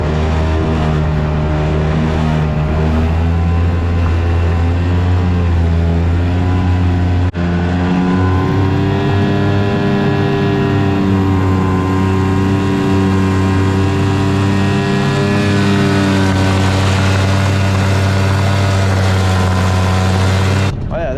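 An outboard boat motor drones steadily and loudly throughout, a continuous low mechanical hum with a slight rising and falling strain, close by, as the boat fails to get on plane.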